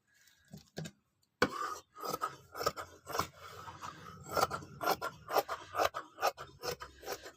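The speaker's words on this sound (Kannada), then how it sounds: "ಇದಿಷ್ಟನ್ನು ಕಟ್ ಮಾಡಿ ತೆಗೆದುಬಿಡೋಣ" Scissors snipping through velvet blouse fabric in a series of close, uneven cuts and rasping strokes, with a short silent gap near the start before steady cutting resumes.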